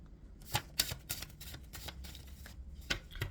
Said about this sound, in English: I cannot shuffle for shit today.